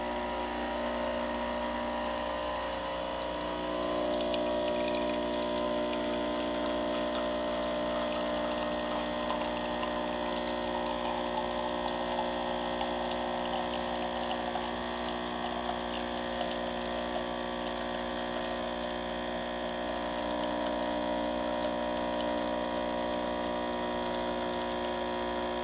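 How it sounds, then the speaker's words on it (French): A De'Longhi all-in-one coffee and espresso machine runs with a steady, loud pump hum and a whirring tone that shifts slightly early on, then holds for about 25 seconds with no voices. "il suffit d'appuyer dans la machine en haut pour allumer donc vraiment la machine à espresso"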